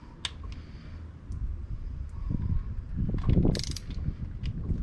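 A rear brake caliper piston on a 2008 Saturn Aura XR is cranked back in with a screw-type tool, giving close ratcheting clicks and grinding mechanical scrapes that swell toward the end, with no speech.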